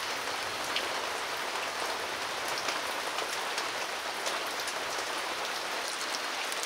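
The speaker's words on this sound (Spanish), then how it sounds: "queda la lluvia." Steady rain falls in the mountains after a thunderstorm has passed, a continuous, even patter on surfaces with scattered distinct drops and no voices.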